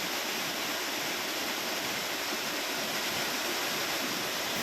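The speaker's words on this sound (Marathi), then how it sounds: "कडेकपारीतून फेसाळत कोसळणारे धबधबे पर्यटकांचं आकर्षण आहे" Panval waterfall in Ratnagiri, in the Konkan, runs full with monsoon water, making a dense, unbroken roar of falling water with no voices.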